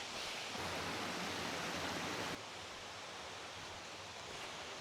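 Steady broadband rushing of a waterfall and its stream in the Haut-Jura, dense and continuous, with a slight drop in level partway through.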